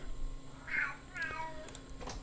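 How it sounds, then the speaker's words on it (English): A cat screams and meows in a few short, strained calls, fairly close and loud against a quiet background. "And right on cue, the cat is screaming."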